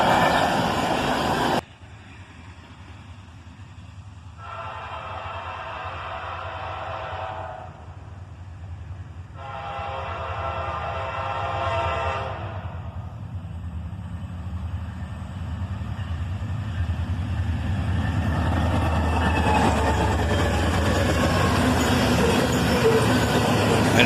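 A southbound freight train led by a pair of Canadian Pacific ES-44AC locomotives, with a steady heavy rumble and two long horn blasts, the rolling noise building louder as it passes close by.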